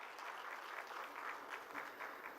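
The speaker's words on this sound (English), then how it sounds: "Let's give a big round of applause to Manish Dishit." A conference audience at the Indian Geotechnical Conference breaks into sustained applause, a dense, steady patter of many hands clapping that stays fairly quiet and even throughout, with no voices rising above it.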